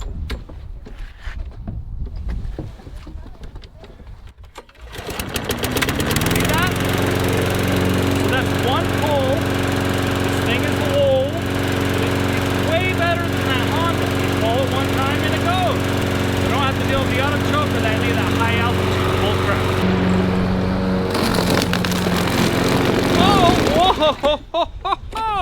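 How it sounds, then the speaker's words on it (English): A well-worn lawn mower with a bagger starts after a quiet opening and runs steadily and loudly while mowing, its engine drone holding near and constant throughout. "I'm just gonna finish mowing this."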